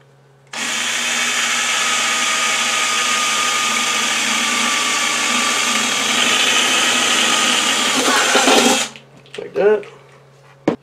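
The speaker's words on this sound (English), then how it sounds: "I'm gonna drill a hole" A power drill bores a hole through a school bus roof, running at a loud, steady whine for about eight seconds before spinning down, followed by a few short clunks.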